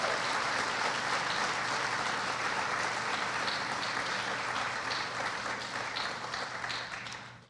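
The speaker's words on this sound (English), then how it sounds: "Please give a round of applause for our colleagues." A large convocation audience at Middlesex County College applauds staff colleagues with dense, steady clapping that holds at full strength for several seconds before tapering at the end.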